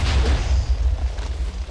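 Explosion in Minecraft, a loud booming blast with a heavy low rumble that starts at once and rolls on with little fading across the short clip.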